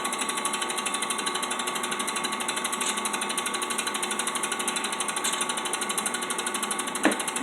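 An improvised home machining setup cuts metal lubricated with WD-40, producing a steady, loud mechanical whir with a rapid even pulse, one brief sharp knock near the end, and no speech.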